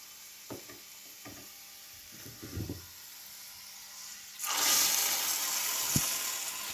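Fried shallots poured from the pan into a simmering okra curry, a few faint taps and clatters first, then a sudden loud sizzling rush that holds steadily to the end with one sharp knock.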